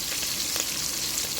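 Onions and whole garlic cloves fry together in a generous amount of oil, a dense, close sizzle that stays steady and alone throughout.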